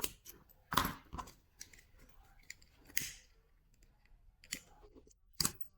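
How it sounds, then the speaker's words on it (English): Sharp scissor snips trimming thread ends on a handmade leather cloud bag, several crisp cuts in a quiet room with small handling noises between them. "Finally, snip them off and singe them with a lighter."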